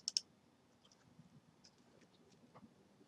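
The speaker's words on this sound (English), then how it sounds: "and double click it" A computer mouse gives a quick double click, two sharp close clicks right at the start, followed by faint soft ticks in a quiet room.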